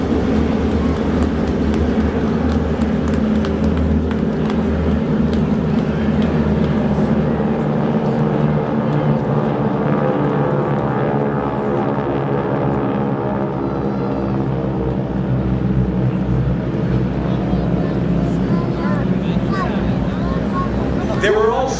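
Formation of eight T-6 Texan 600-horsepower piston trainer aircraft, two flights of four, passing overhead with a steady loud droning roar that swells and holds throughout, with voices faintly under it.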